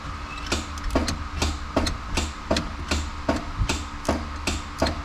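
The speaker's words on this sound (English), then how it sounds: "my starter solenoid works" Starter solenoid on a fuel-injected 2.3 Ford Pinto engaging repeatedly, a steady series of sharp metallic clacks roughly every half second over a low mechanical hum, close and moderately loud.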